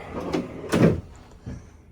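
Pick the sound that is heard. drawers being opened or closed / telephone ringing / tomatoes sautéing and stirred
drawers being opened or closed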